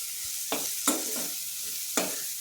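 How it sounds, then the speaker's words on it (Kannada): Onion and spices frying in hot oil for a cabbage side dish while being stirred, with a steady sizzle and a few sharp scraping or clattering stir strokes, close and moderately loud with no talking. "ಕೆಲ ಪದಾರ್ಥಗಳನ್ನು ಪಟಪಟ ಅಂತ ಹಾಕಿಬಿಡಬೇಕು ಹಾಗೂ ಇದಕ್ಕೆ ಆನಿಯನ್ ಅಂದರೆ ಈರುಳ್ಳಿ ಕೂಡ ಬೇಗ ಹಾಕಬೇಕು"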